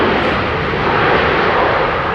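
An airliner powered by CF6 jet engines at London Heathrow gives off a loud, continuous engine roar that stays steady and close for the whole stretch.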